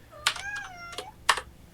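A house cat meows twice in a quiet room during a livestream, with a drawn-out tonal meow followed by a shorter second call, close to the microphone and alone without talk.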